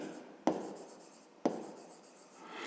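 Numbers are written by hand for a fifth-grade math exercise, with two distinct, sharp pen-on-paper strokes about a second apart, each followed by a faint trailing scratch. The sound is quiet, close and alone.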